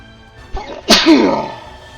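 A character in the video game Super Robot Wars Y lets out a single loud, close sneeze, a quick breathy intake followed by a sharp burst that fades away.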